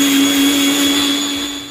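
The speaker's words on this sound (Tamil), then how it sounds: "இப்போ நம்ம இதை வந்து மிக்ஸி ஜார்க்கில் போட்டு இதை நம்ம நல்லா பவுடர் பண்ணி எடுத்துடலாம்." A mixer grinder whirs steadily and loudly while powdering sugar, a constant high motor whine that eases off slightly toward the end.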